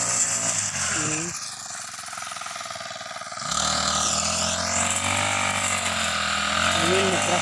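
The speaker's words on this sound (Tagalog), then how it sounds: "Ayan yung grass cutter." A grass cutter engine runs in a rice field, clearing dry weeds, with a steady buzzing drone throughout that dips briefly in the middle before returning at full strength, close and loud.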